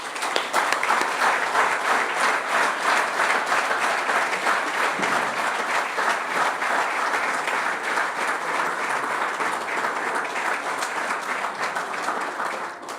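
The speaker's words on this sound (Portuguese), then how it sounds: "Eu acho que merece a primeira salva de palmas." Continuous, evenly sustained audience clapping at a Municipality Day ceremony in Ourém, Portugal, honoring a world amateur football champion, a full crowd applauding steadily for thirteen seconds without talk.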